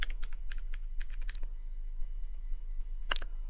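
Port-security commands are typed on a computer keyboard for a Cisco Packet Tracer switch configuration. Quick, close key clicks come in a burst at the start, a pause follows, then one sharp louder keystroke near the end, like Enter.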